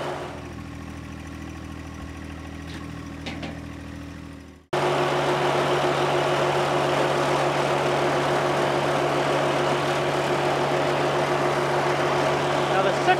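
A subcompact turbo tractor runs with its sickle bar mower, a steady loud mechanical drone that kicks in abruptly after a quieter engine idle for the first few seconds, then holds constant.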